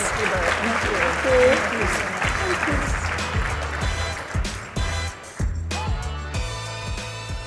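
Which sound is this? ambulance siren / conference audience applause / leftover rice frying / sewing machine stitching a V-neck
conference audience applause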